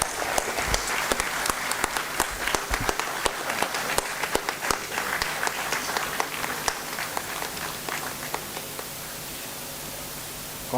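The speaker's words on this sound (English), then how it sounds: "Applause, please." Applause rolls through the audience at the valedictory award ceremony of a national moot court competition, a long, sustained crowd clapping with sharp individual claps standing out near the microphone, gradually thinning toward the end.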